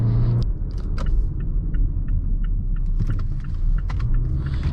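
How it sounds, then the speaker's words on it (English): 2020 Mazda CX-5 engine working hard on the move, a low rumbling drone inside the cabin with scattered small clicks and rattles over the road noise, steady and fairly loud. "it's kind of fun wringing this engine out"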